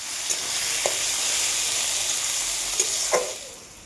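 Chopped spices fry in hot oil for masoor dal tarka, making a steady, loud sizzle broken by a few brief stirring clicks. No one talks.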